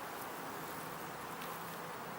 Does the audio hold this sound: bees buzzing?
yes